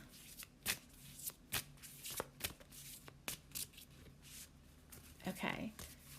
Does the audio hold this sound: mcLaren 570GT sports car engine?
no